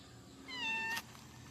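A cat gives a single clear, drawn-out meow lasting about half a second, close and distinct against a quiet background hum.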